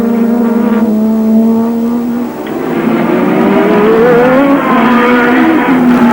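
Formula 1 cars from the 1986 Spanish Grand Prix roar past one after another, loud steady engine whine rising and falling in pitch as they go by, with no voices over it.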